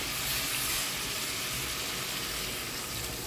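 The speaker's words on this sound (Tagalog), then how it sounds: "Lagyan natin ng sapat tubig para sa pagpapalambot." Water poured into a pot of chicken with sotanghon noodles, a loud, steady hissing rush close by that runs the whole time with no talking.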